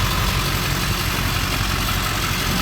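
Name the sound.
Ford F-350 diesel truck engine idling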